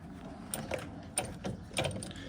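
A puller being tightened with a ratchet to remove a boat steering wheel from its hydraulic helm, giving a few close, crisp clicks in short succession and no talk.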